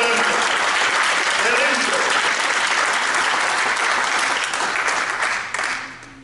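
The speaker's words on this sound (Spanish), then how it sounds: "¿Cuánto le damos un aplauso al Señor?" A church congregation applauds for the Lord during a Seven Last Words service, with dense, loud, sustained clapping that holds steady and then fades out near the end.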